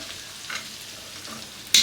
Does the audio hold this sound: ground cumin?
yes